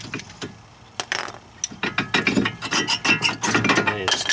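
Front brake caliper of a BMW E36 3 Series being wiggled free by hand during a pad and rotor job, giving a run of close metallic clinks, scrapes and rattles that grow busier and louder toward the end.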